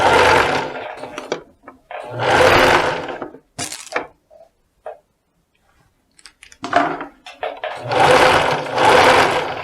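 A sewing machine stitches a dress in loud, close bursts of rapid whirring, broken by pauses filled with light clicks and fabric handling.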